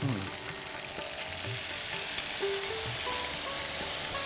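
Prawn gravy for a tender-coconut prawn dish hits a hot pan and fries with a steady, close sizzle and crackle, stirring clinks scattered through, no voices.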